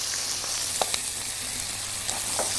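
Chopped onions fry in a pan for fried fava beans, giving a steady, close broadband sizzle with a few faint pops and crackles and no voices.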